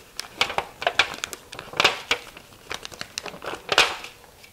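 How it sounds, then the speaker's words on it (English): Foil and a paper liner are peeled off a pie pan lid, giving close, quiet crinkling and tearing in short irregular bursts. "Just peel back the foil, and then you've got your lid here"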